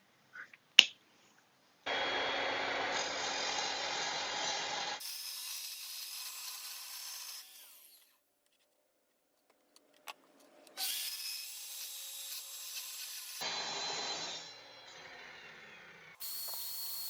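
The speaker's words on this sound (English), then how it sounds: "it's time to cut some steel so that we can mount this guy on here. Let's go to the chop saw." Chop saw cutting steel flat bar for an anvil stand, two long stretches of steady grinding whine with a sharp knock before the first and a brief click between them, heard alone at a moderate level.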